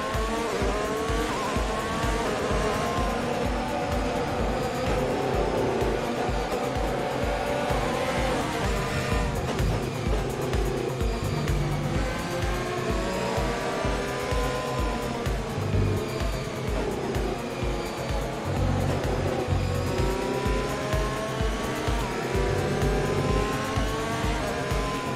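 Formula 1 race cars circulate at Silverstone behind the safety car in the F1 2020 video game on PC, a steady, continuous engine drone with faint tyre noise throughout, with no voices.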